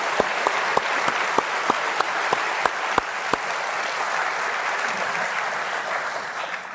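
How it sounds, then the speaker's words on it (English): An audience at the West Point military academy applauds the NATO secretary general, a broad sustained wash of clapping with a few sharper nearby claps early on, gradually thinning. "Please give a round of applause"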